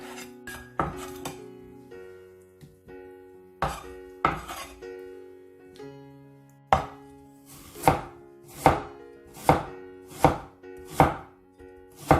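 A knife chops pickled mustard greens into coarse pieces on a cutting board for braised pork ribs, with scattered cuts at first, then a steady run of sharp, loud chops near the end.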